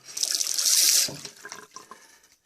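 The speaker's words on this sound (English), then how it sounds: "this tap is really stiff and to turn on compared with this one" Stiff kitchen hot tap turned on, water gushing loudly into the sink for about a second, then dropping to softer splashing and trickling that fades away.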